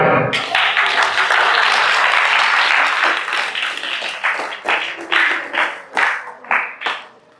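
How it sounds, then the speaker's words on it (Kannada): An audience at a Yoga Day competition applauds for the Chinmaya Vidyalaya school, a loud dense burst of clapping that thins into scattered individual claps and fades out. "ಚಿನ್ಮಯ ವಿದ್ಯಾಲಯಕ್ಕೆ ಒಂದು ದೊಡ್ಡ ಚಪ್ಪಾಳೆ"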